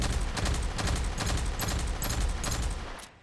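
Twinhammer gun in the video game Aliens: Fireteam Elite fires rapid, loud bursts of shots in a steady rhythm for about three seconds, then cuts off.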